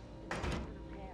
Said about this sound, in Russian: Двери закрылись раньше, чем я их закрыл.